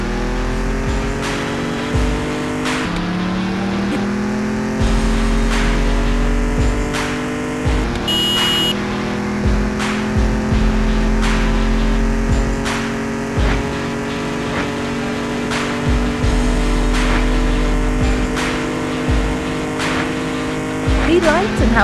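A car engine at full throttle in the racing game Mr Racer, a loud steady roar that climbs in pitch through each gear before dropping at the shifts, with brief clicks and whooshes over the top.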